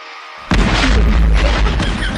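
A firecracker lit with a matchstick goes off in one loud, close boom, and a long roaring rumble trails behind it.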